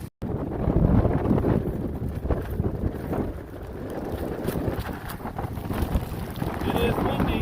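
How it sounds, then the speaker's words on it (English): Strong wind buffets the microphone on a bridge along the Great Allegheny Passage near Pittsburgh, a loud continuous low rumble and roar with gusts throughout, briefly cut out at the start. "And it's getting a little windy."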